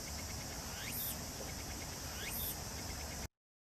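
Tsukutsuku-boshi cicada singing near a house, a dense continuous buzzing drone with two rising whistle-like calls repeating about a second and a half apart, steady and fairly loud, no voices.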